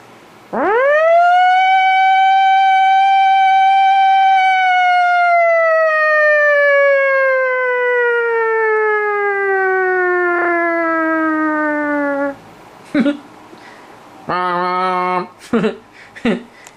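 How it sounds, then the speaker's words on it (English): A loud wailing ambulance siren sweeps up and then slowly falls in one long tone, followed by a few short, broken bursts. "They don't even sound like ambulances no more."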